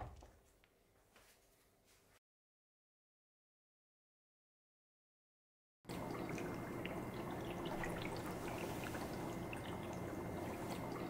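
Water pours steadily into a bubble wall with a bright, continuous rushing splash, following a short quiet gap.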